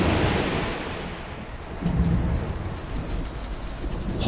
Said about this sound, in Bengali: হঠাৎ এক বিদ্যুতের ঝলকানি আর মুহূর্তের মধ্যে সশব্দে বাজ পড়ল।